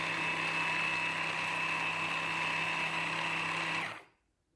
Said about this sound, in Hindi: और इन सारी चीज़ों को हमने दोबारा से ब्लेंड कर देना है।